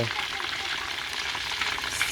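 Battered chicken frying in oil in a pot gives a steady, quiet sizzle and crackle with no talk over it.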